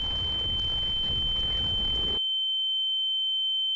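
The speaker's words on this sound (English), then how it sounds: "everything is fuzzy, there's a loud ringing sound, and you feel the earth shake" A thin, piercing ringing tone follows an explosion, holding steady while a dense rumbling roar churns beneath it; the roar cuts off abruptly, leaving the high whine hanging alone.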